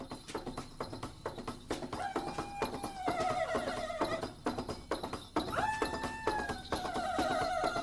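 A horse neighs and whinnies in repeated rising, wavering calls over a busy, textured background, fairly faint overall and with no speech.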